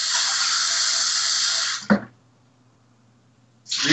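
Water pours into a stew pot as a steady rushing stream that stops abruptly with a small thump, then starts again after a brief pause, close and fairly loud.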